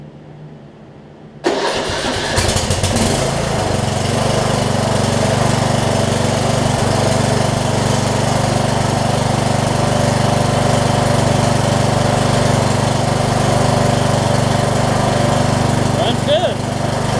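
A Troy Bilt Pony riding lawn mower with a newly installed carburetor turns over briefly, catches and starts, then settles into a loud, steady close-up idle that runs alone for the rest of the clip.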